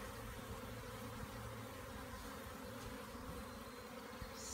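A swarm of honey bees buzzes in a dense, steady drone, many wings humming at once, fairly faint and continuous outdoors.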